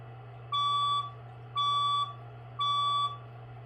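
A building fire alarm sounds during a test, giving three evenly spaced electronic tones about half a second each with short gaps between them. A constant low hum runs underneath, and no one speaks.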